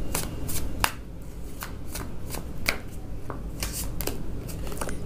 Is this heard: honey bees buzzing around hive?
no